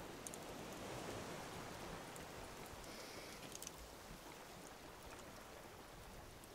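Steady rain falls in the survival video game Raft, a dense, even hiss of drops hanging at the same level throughout, with faint water sounds underneath and no talk.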